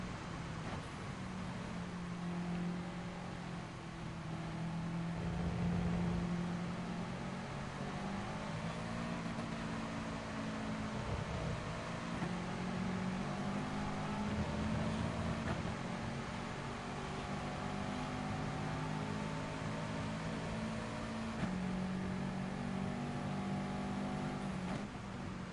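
Race car engines roar steadily in GT Sport daily online races, with sustained revving and gear-shift pitch changes that stay loud and close for the whole stretch.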